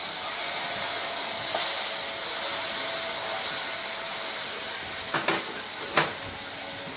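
Sausage patties sizzle steadily in a frying pan, a constant hiss of hot fat with a few brief louder crackles near the end.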